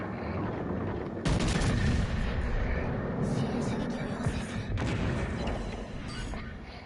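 Heavy naval gunfire from warship guns in World of Warships, dense booming bursts starting abruptly and rolling on loudly with a second barrage later, blending into a continuous rumble.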